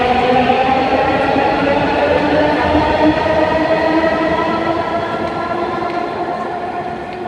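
A Dhaka metro train pulls out of the Dhaka University station, its loud, steady rumble and rising hum filling the platform, then gradually fading.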